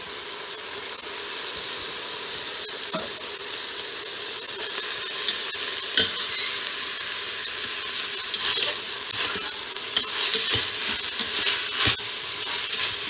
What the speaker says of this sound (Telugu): ఇలా రైస్ని చక్కగా ఇలా ఫ్లేమ్ ఆన్లో ఉన్నప్పుడే ఇలా కలిపితే